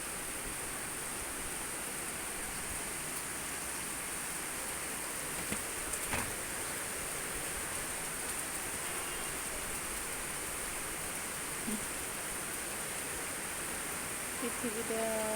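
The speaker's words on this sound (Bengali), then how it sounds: "কি সুন্দর বৃষ্টি রে," Rain falls in a steady, even hiss that runs unbroken throughout, fairly soft and spread wide, with no distinct drops standing out.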